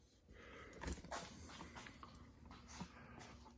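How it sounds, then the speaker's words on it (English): A 60-pound dog shifting about in a motorcycle sidecar, giving quiet snorts, soft whimpers and scuffling movements, all faint and close. "there's 60 pounds of dog in the sidecar right now"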